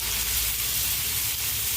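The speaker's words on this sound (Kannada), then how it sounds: "ಅದಕ್ಕೆ ನಾವು ಸ್ವಲ್ಪ ಸ್ವಲ್ಪ ಹಾಕಿ ಅದನ್ನು ನಾವು ಫ್ರೈ ಮಾಡ್ಕೊಳ್ಳೋಣ" Marinated chicken kebab pieces fry in hot oil, making a steady, close sizzle and hiss that carries evenly from start to finish with no voices.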